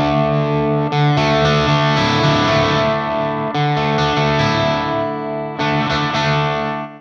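Electric guitar played through a Friedman SS 100 Steve Stevens amp with the guitar volume knob rolled back, giving a loud, sustained, lightly overdriven tone in three long strummed phrases with no talk.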